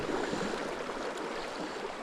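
Water of the River Irfon in Mid-Wales rushes and hisses in a steady broadband wash, close and continuous with no voices.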